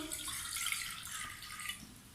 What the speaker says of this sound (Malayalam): ഒരു ബൗളിലേക്ക് ഇതാ വെള്ളം ഒഴിക്കുന്നു